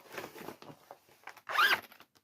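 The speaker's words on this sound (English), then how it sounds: "Yeah, zippers you will hear also." A clothing zipper is pulled in one quick sweep near the mic, a bright rasping zip, after a soft rustle of handling in a quiet room.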